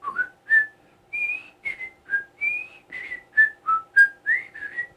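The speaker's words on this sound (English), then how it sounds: "I don't even know if I'm whistling a tune right, but that's the Andy Griffith Show tune" Whistled rendition of the Andy Griffith Show theme tune, a steady melodic run of clear, close whistled notes with short gaps between phrases, heard alone without speech.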